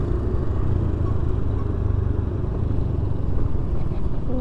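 Road traffic held up behind a bus on the route toward the southern crossing road near Malang, a continuous heavy engine rumble and motorcycle drone at steady loudness, with no talk.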